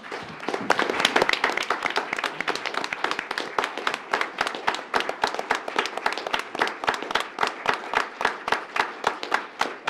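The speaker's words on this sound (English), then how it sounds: "one more round of applause is due you" A crowd applauds at a county commissioners' board meeting, dense clapping that settles into a steady rhythmic beat, loud and sustained the whole way through.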